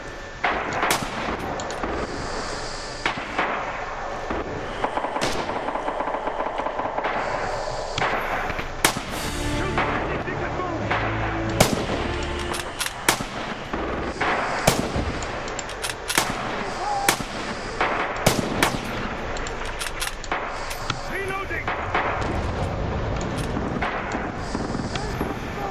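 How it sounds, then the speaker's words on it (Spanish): Rifle shots and explosions in the Red Orchestra 2 war game ring out as a steady barrage of sharp, loud cracks and booms, some close and some distant, over constant battlefield rumble with a voice talking intermittently. "está disparando otra vez el francotirador"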